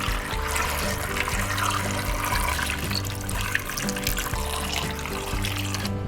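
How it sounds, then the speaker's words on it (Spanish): Water pours steadily into a pot of potatoes, a continuous close rushing and splashing that runs unbroken for several seconds. "Le agregamos agua."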